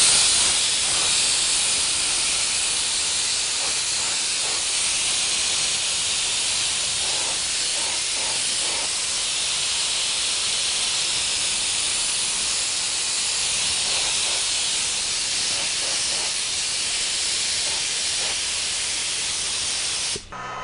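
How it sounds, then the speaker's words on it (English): Applied Colors vinyl dye sprayed onto a seat in very light coats, a steady continuous hiss running nearly unbroken throughout, loud and close with no talking. "I'm going to proceed to dyeing the seat very, very light coats with the heat gun in between coats."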